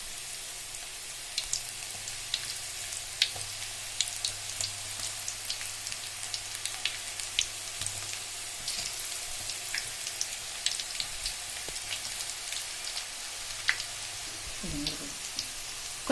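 Ragi and onion pakoda dough crackles in hot oil, a steady fine sizzle with scattered pops running throughout, alone at moderate level.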